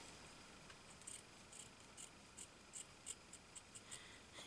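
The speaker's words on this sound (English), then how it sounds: "Yeah, good scissors." Small craft scissors snip paper in a quiet room, a series of short, faint crisp cuts spaced irregularly with soft pauses between them.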